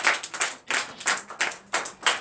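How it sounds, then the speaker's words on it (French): A church congregation at a Sunday worship service in Benin claps together in a brisk, regular rhythm, about two claps per second, close and loud with no talk. "Acclame Jésus."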